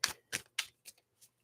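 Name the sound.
shuffling a deck of tarot cards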